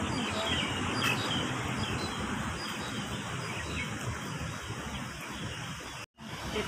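Birds chirp faintly throughout a bird park against a dense, steady wash of background noise, with a brief dropout near the end.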